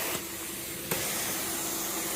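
A carpet cleaning wand on a modified AW29 setup, running at high pressure, hisses steadily as it sprays and extracts, a continuous broadband rush with a brief surge partway through, with no talk.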